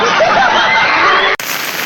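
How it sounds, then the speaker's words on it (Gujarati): Heavy rain falls close by in a steady, loud, dense hiss that cuts off briefly near the end before resuming. "વરસાદ તો જોવો મસ્ત આવી ગયો છે"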